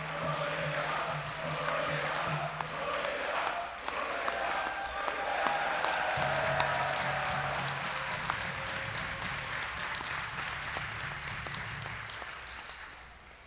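An audience at an American Legion Boys' State event in New York claps in sustained applause, a dense, steady wash of many hands that lasts throughout and slowly thins toward the end.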